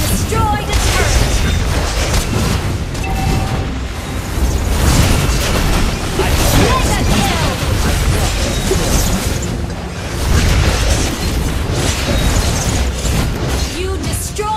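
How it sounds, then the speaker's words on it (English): A turret is destroyed in a mobile battle game amid continuous loud booms and bursting explosion sounds over dense battle noise, with game announcer voices mixed in. "You destroy the turret."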